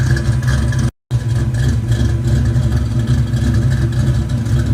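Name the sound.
Ford 351 small-block V8 engine with camshaft running on dyno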